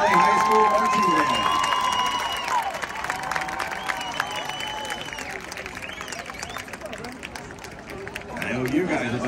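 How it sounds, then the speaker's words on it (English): Audience applause and cheering in a stadium for the Green Valley High School Marching Band and color guard as they leave the field, a loud sustained wash mixed with crowd babble, with a PA announcer's voice and musical tones over it. "how about another round of applause for the Green Valley High School Marching Band"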